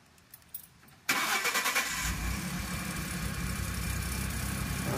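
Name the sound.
Ford F150 engine starting after exhaust flex pipe repair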